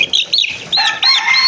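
Chickens, including pullets and a young cockerel, cluck and squawk close by in quick overlapping calls, with a rustle like wings flapping, all in a brief, loud burst.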